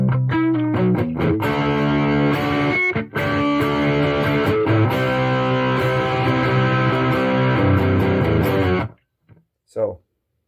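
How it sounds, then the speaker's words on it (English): A Raven Strat electric guitar on its bridge humbucker plays the Hey Joe riff with a pick through light distortion, loud and close, with sustained chords that stop before a final short plucked note. "just a little bit of distortion on it"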